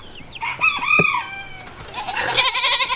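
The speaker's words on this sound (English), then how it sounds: "What kind of chicken is that one up there with a mohawk?" A rooster with a mohawk-like crest crows nearby in a farmyard, its drawn-out call rising and falling over about two seconds, followed by clucking and other poultry noise in the background.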